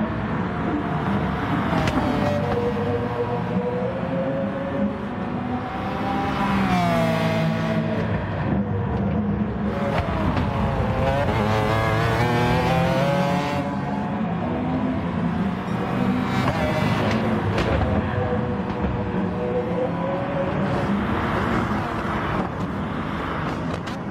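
A Subaru race car in Gran Turismo Sport, lapping Brands Hatch in a manufacturer race, roars loudly and continuously, its engine pitch climbing and falling through gear changes with tyre noise underneath.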